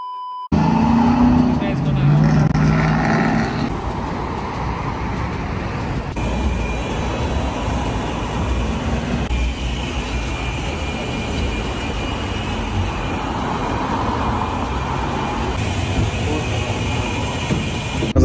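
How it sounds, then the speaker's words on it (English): Lamborghini cold start: a sharp starter burst flaring into a loud engine roar, then settling into a steady, rumbling idle up close. "Here's a little cold start."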